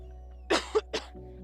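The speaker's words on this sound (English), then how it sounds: "I didn't want to cough in the mic, so I tried to cough it on my sleeve." A short, muffled cough into a sleeve in two quick bursts, fairly close but soft, against a quiet background hum.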